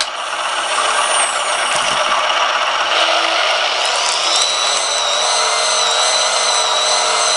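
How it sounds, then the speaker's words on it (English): An RC model Caterpillar D5 bulldozer with an onboard sound unit runs as its Actuonix ripper actuator pushes up the back of the machine, giving a steady, loud mechanical whine with shifting, rising tones and no pauses. "But the ripper works pretty good. It's got plenty of power. It'll lift up the back of the machine here."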